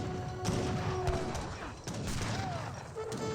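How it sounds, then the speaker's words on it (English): Gatling guns fire in a cavalry-era battle video game, a dense burst of rapid shots clustered with booms and mechanical clatter over a rumbling battlefield backdrop, some tonal game sounds drifting through. "the skirmishers getting gunned down by the Gatling guns"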